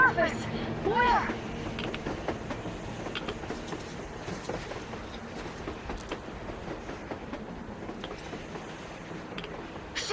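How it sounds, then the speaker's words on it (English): Train rolling along rails in the Metro Exodus video game, a rumbling clatter with scattered metallic clanks, set under game voices and other in-game sounds. "A train! A damn train on the surface!"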